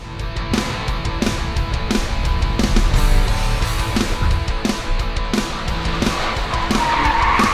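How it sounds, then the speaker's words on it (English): A car is driven hard through a course at a car control clinic, with tire squeal and skidding over a steady engine drone, repeated rhythmic surges and loud, continuous noise throughout. "let's see if Caitlin's learned anything from her car control clinic out at Pit Race."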